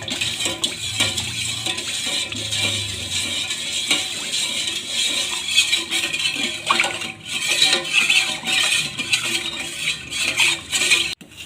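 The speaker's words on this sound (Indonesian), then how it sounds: "Lalu masak puding sambil terus diaduk-aduk hingga muncul warna putih-putih dan mendidih." Spoon scraping and stirring strawberry pudding cooking in a pot on the stove, a continuous busy clatter of metal against the pot lasting throughout, fairly loud with no talk.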